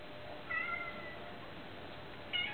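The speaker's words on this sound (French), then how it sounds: "Oh, écoute le chat, t'es pas invité." A domestic cat meows indoors, two short mewing calls about two seconds apart, moderately near and fairly soft, with no talk over them.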